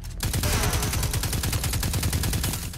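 Rapid automatic gunfire from a weapon in the video game Destiny 2, a continuous loud burst of evenly spaced shots lasting the whole stretch, no voices.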